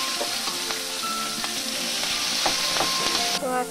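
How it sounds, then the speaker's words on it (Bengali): Grated onion dropped into hot oil in a pan, sizzling loudly and steadily throughout, with some clinks of stirring and a burst of crackle toward the end, no talk. "গ্রেট করে রাখা পেঁয়াজটা দিয়ে দেবো।"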